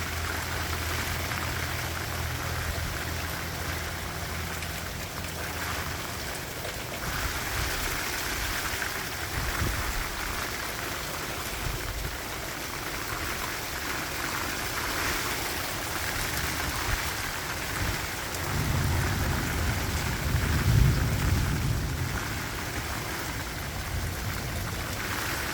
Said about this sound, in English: Something about the rain that's so calming and peaceful.